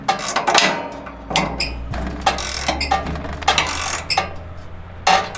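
A hand ratchet clicks in quick bursts, close and clear, as it tightens the mounting bolts on a new shock absorber of a Simplicity Prestige/Conquest riding mower. Occasional metallic knocks come between the bursts.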